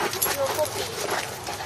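Pit bull puppy whimpering and panting in short, thin high whines, close by and partly masked by a person talking over it.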